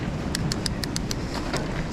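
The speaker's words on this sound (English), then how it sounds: "Should we just wait for this gust to go?" A loud gust of wind buffets the microphone on a mountain bike trail in the Plym Valley, a steady broadband roar with a few faint rattling clicks over it and no talk.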